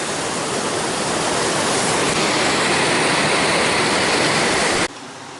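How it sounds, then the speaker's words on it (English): Whitewater Falls, a waterfall on a hiking trail, roars as a loud, steady, broadband rush of falling water close by, cutting off abruptly near the end. "we made it down to Whitewater Falls"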